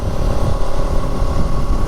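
A TVS Apache RS 200 motorcycle engine runs close by with a steady, loud throttle drone and no voices.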